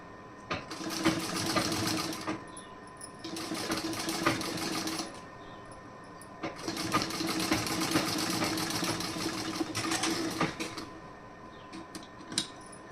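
Sewing machine running in long bursts with short pauses, stitching a kaj patti (buttonhole placket) for a garment, steady close mechanical whir with faint background noise.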